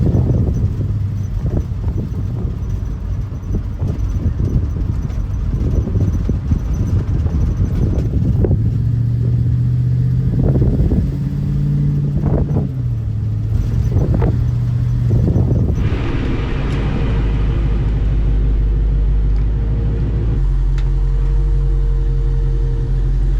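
A 1968 Ford Mustang fitted with a swapped-in 5.0 V8 from a Ford Explorer runs on the road, its engine a steady loud drone that rises and falls through several revs, with wind noise and no talking.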